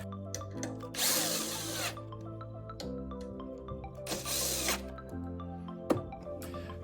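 A power drill drives screws into the frame of a two-sided spinner sign in several loud, short bursts, separated by pauses filled with clicks and handling noises, with no talking.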